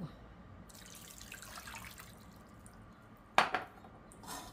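Tap water running into a cooking pot to boil chicken breast, a faint steady stream with a sharp splash or clunk near the end.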